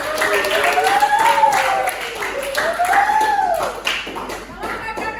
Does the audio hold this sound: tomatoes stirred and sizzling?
no